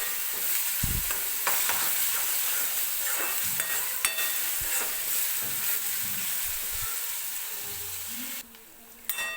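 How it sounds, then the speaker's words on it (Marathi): Chopped onion frying in oil for a chicken sukka, a steady close hiss of sizzling broken by repeated scrapes and knocks of a spatula stirring the pan, quieting near the end. "कांदा सुरुवातीला व्यवस्थित तेलामध्ये आपल्याला भाजून घ्यायचा आहे."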